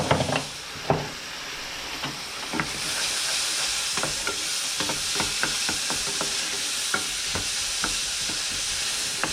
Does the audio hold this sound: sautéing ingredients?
yes